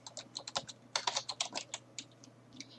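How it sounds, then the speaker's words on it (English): Quick typing on a computer keyboard, close and fairly quiet, a rapid run of light key clicks over about three seconds with no voice. "all you're going to do is highlight these words and type your title in again."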